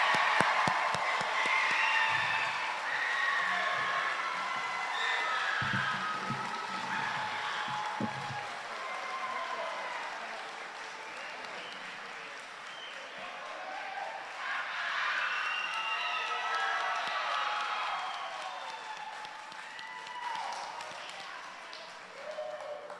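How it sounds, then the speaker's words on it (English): Graduates at a summer commencement ceremony receive a long, steady wave of crowd applause and cheering, with scattered whoops and claps rising and falling over about twenty seconds in a large venue. "Let's now congratulate all graduates with our cheers and applause."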